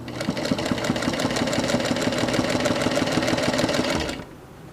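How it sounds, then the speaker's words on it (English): A sewing machine stitches a dart on a wrap dress, a fast steady mechanical whirr close up that runs for about four seconds and then stops abruptly. "I'm just sewing up a dart."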